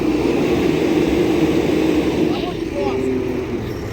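A heavy six-ton tractor engine rumbles steadily at close range while towing a stuck vehicle in winter snow, a thick low drone that never lets up, with people talking over it.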